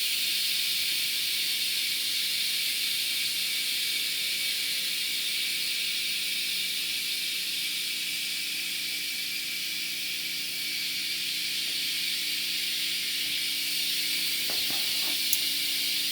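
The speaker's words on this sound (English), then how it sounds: "Nice shot of espresso with a nice Pavoni espresso machine, vintage, complete rebuild." A long, steady hiss with a low mechanical hum underneath from a rebuilt vintage La Pavoni lever espresso machine pulling a shot, with a couple of brief clicks near the end.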